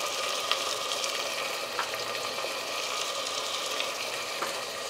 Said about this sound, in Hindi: टमाटर डालने के बाद बस 2 मिनट के लिए मैंने फ्राई कर लिया है